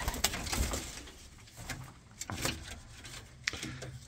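Pied pigeons in a racing loft make soft, low cooing with light shuffling and knocking sounds, quiet and intermittent, with no one talking.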